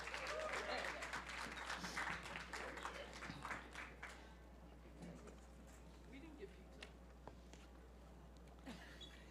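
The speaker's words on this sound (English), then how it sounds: "Let's have another round of applause for these greats." Loud applause from an audience at the start fades into scattered claps and quiet room murmur.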